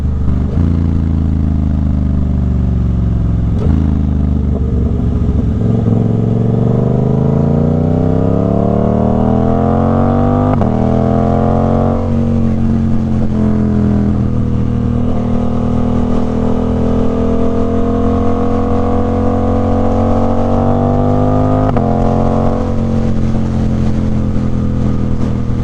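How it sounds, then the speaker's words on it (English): A 2024 Suzuki GSX-8R sport motorcycle with a Toce exhaust and quick shifter revs and shifts through gears continuously, rising in pitch again and again, loud and close with no talking. "when you're downshifting, because I got a quick shifter on this bike, you'll hear these little pops"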